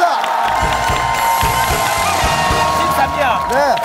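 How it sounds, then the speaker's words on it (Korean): Studio audience on a Korean Chuseok special talent show cheers and claps loudly with whoops, a dense steady crowd roar with music tones running underneath throughout. "박수 부탁드리겠습니다."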